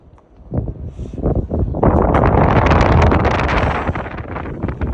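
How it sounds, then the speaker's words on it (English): Cold wind on a mountain top along the Appalachian Trail, roaring into the microphone in loud, sustained gusts that build after a quieter start. "It is so cold. The wind is. It's actually freezing."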